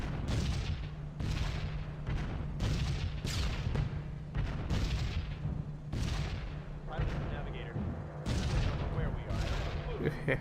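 Repeated bursts of anti-aircraft flak in the B-17 The Mighty 8th video game, a steady run of heavy booms roughly every second over a constant engine drone, loud and close throughout.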